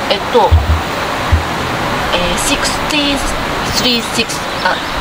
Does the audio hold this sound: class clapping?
no